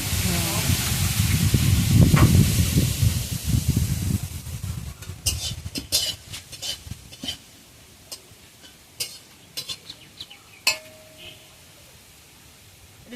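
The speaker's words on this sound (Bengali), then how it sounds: "সব মশলাই শুকনো খোলায় ভেজে নিতে হবে" Dry chillies and spices roast in a dry pan for a raw mango pickle, a rushing hiss at first that gives way to scattered scrapes and light ticks of stirring, while a voice talks over it.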